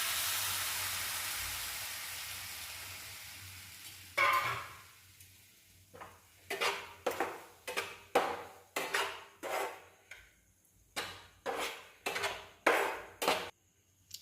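Bread fries in ghee, giving a broad hiss that fades after milk is added, followed by a series of rhythmic scraping and stirring strokes in the pan, heard alone without talk.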